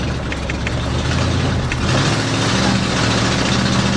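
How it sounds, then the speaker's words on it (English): A 1965 Ford Galaxie engine runs under light throttle with a loud, steady rumble and slightly uneven, missing rhythm, heard close and continuous without talk. "light gassing situations like this, it just sounds like it wants to miss"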